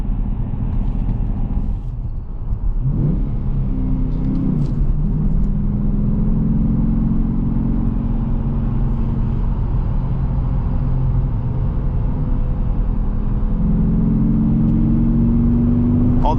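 A Dodge Challenger R/T with a manual gearbox revs up and drops as it shifts through gears, a deep rumbling V8 exhaust rising in pitch several times, heard loud and close.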